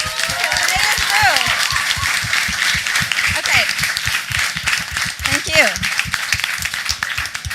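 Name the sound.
audience applause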